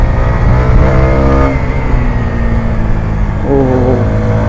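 A 2022 TVS Apache 160 4V motorcycle engine idles with a steady low rumble, then revs up twice, pitch rising and falling, loud and close with no talking.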